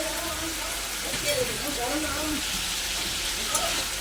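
Spice paste of ground cashew, poppy seed and melon seed frying in a pan, giving a steady soft crackle and sizzle throughout with a few faint clinks and scrapes.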